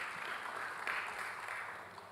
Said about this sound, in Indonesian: Beri tepuk tangan dulu buat choir kita